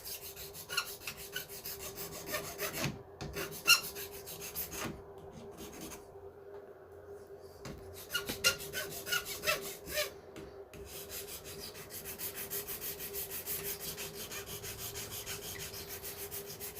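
A hand file rasps against the plastic hotend mount of a Sunlu S8 3D printer being fitted with a V6 hotend, in repeated close scraping strokes broken by a few short pauses.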